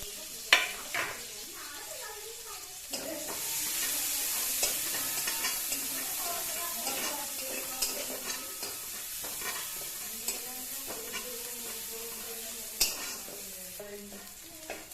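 Green chilli, garlic and onion frying in hot oil for a spicy Maggi noodle dish, a continuous sizzle with frequent spoon scrapes and clinks against the pan as the mixture is stirred.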